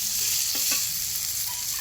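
A short, steady burst of frying eggplant sizzles in a pan, with a couple of soft stirring scrapes in the middle.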